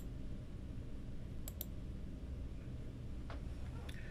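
A computer mouse clicks while options are picked on a web form, giving four soft, sparse clicks over steady background hiss.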